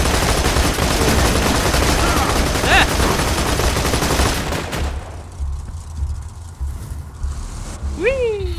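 Turret gun firing in Borderlands 2, sustained rapid loud bursts for several seconds, then dropping away to quieter rumble with a faint whistling streak near the end.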